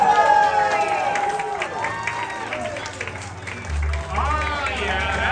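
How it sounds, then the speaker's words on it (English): A crowd at a Spooky Empire Summerween convention claps and cheers for a costumed performer named Pennywise, a mid-distance wash of applause running beneath loud talk and shouting into a microphone. "Give her a round of applause"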